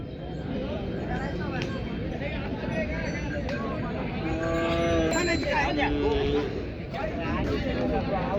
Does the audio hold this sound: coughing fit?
no